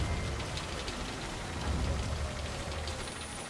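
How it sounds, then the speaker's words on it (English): Steady pouring rain hisses loud and continuous in the Death Stranding video game, a dense wash of drops with a faint low rumble and no talk. "In the pouring rain."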